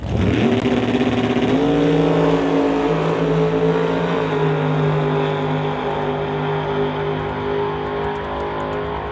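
A door-slammer Camaro drag racing down the strip gives a loud, sustained, droning engine roar that climbs through gear changes, then holds a steady high-revving tone and slowly eases off.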